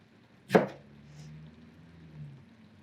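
A knife cuts a tomato on a chopping board, a single sharp chop in a quiet kitchen, followed by a faint low hum.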